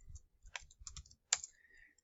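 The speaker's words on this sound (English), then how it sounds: "when using Microsoft Office, the easiest way is to start off by just typing." Typing on a computer keyboard while working in Microsoft Office, a few soft, irregular key clicks close by, with one sharper tap near the end.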